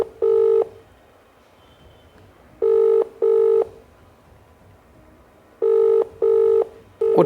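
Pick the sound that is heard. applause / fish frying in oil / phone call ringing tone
phone call ringing tone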